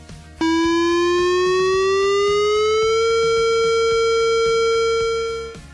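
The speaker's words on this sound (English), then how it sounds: "The siren will enunciate and will sound like this." A loud, steady outdoor warning siren wails continuously, its pitch rising slowly then holding, with no talking, fading slightly at the end.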